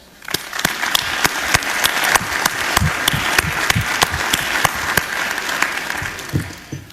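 Sustained applause from an audience at Howard University, steady clapping throughout with a few louder individual claps standing out.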